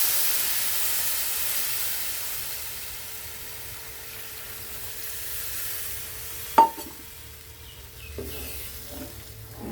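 A curry is being made, with the pan quiet and hissing softly at first; then a sudden splash as the batter goes onto the fried spice powder sets off a louder burst of sizzling and bubbling.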